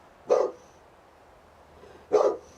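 A dog gives two short, separate barks about two seconds apart, moderately close, with quiet background in between.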